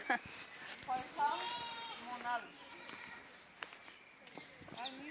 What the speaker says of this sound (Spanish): Mira cabras.